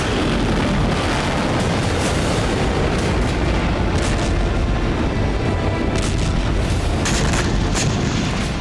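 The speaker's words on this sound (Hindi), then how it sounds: "बलूचिस्तान में दिन का उजाला ही फैला था और तभी जबरदस्त विस्फोट हुआ" Ballistic missile strikes explode in Balochistan, Pakistan, in a dense, continuous roar of blast noise broken by repeated sharp bursts, loud and unbroken throughout.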